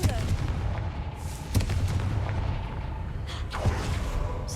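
In the Hogwarts Legacy video game, a Confringo fire spell goes off as a sharp booming blast, with a second burst soon after over a steady rumbling background.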